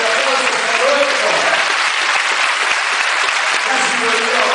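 Loud, dense applause from a crowd, steady clapping filling the whole moment without a break.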